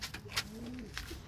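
Pigeons cooing inside a coop: a soft, low rolling coo heard close by, with faint rustling and background noise around it.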